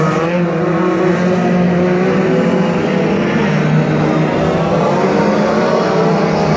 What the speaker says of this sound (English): so everybody single file at the moment in this second race for the Outlaws, and leading the way is Colin White in 718.